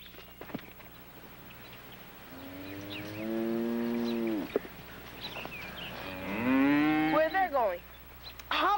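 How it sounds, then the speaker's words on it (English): Cattle near a field at milking time give two long, loud mooing calls close by, each a drawn-out lowing bellow with a separate rising second call, with light rustling in between. "A wild cow? I never heard of a wild cow in the woods before."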